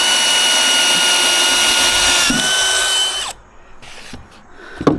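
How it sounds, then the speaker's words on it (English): Power drill driving self-tapping screws into treehouse wood: a loud, continuous high whine for about three seconds, then a sudden stop followed by a few faint knocks and clicks. "They're self-tapping screws, so you can screw them in, back them out, and then put the heavy-duty ones in there."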